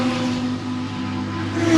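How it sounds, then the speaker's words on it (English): GT race car firing up at a pit stop during a South African GT racing association race, a loud steady engine drone with a rising rev toward the end, close by. "Now he's got to fire it up and off he goes"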